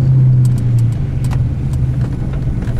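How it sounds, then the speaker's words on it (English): A Ford Ranger drives along with a loud, steady low hum from a badly worn wheel bearing under road noise, with a few faint metallic clicks. "that is a very, very blown wheel hub. Wheel bearing. Hub bearing."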